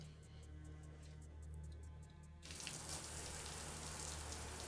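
Water is switched on and gushes into a steady hiss of running shower spray, following a quieter stretch of faint room noise and dripping.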